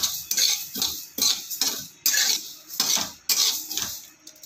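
Over a low flame, a spoon or spatula scrapes and stirs fennel seeds and coriander dal roasting in a metal pan, in close, rhythmic strokes of about half a second each with brief pauses between, and no talking.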